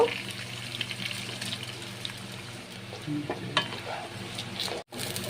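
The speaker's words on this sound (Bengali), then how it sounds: "দেখো চালগুলোকে এভাবে ভালো করে নেড়ে চেড়ে ভেজে নিতে হবে" Steady sizzling of rice grains frying in a pan for basanti pulao, with scraping stir strokes and light clinks throughout, no voices.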